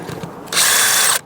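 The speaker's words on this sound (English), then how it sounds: "I can kind of feel when I get to the bottom of the pilot hole, because it just becomes less easy to drill." A power drill bores a pilot hole into aluminium on a Land Rover Freelander 2 rear differential, a short high whining burst of about half a second following brief quieter handling noise.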